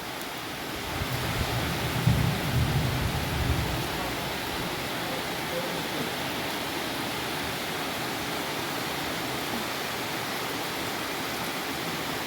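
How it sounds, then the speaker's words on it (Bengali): Heavy rain pours down in Balurghat in a loud, dense, continuous rush, with a brief swell early on before settling into a steady roar. "ঝমঝম করে বৃষ্টি।"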